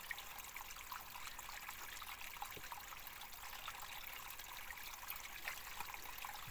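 Water trickling and flowing through a wooden sluice box at a gold mining site, a faint, steady thin stream with small occasional drips and splashes, heard alone without talk.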